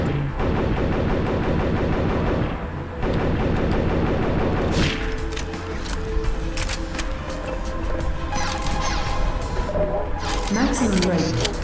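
Rapid gunfire bursts in Metal Gear Solid VR Missions, played inside Half-Life 2, crackle through nearly the whole stretch, loud and dense, briefly dropping out near the second mark, with a voice talking over the shooting.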